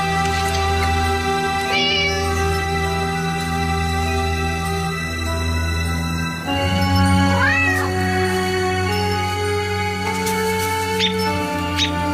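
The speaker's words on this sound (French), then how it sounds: "Attention au chat!" A cat meows loudly and clearly several times, rising and falling calls over a steady background hum, with no talking.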